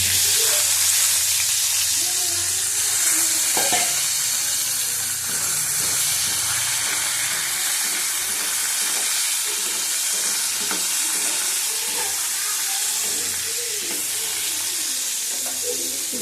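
Potatoes dropped into hot oil with tempering spices, a patol-potato oil-and-chili dish, crackle with a steady close, loud sizzle and bubbling hiss throughout, with occasional stirring clatter.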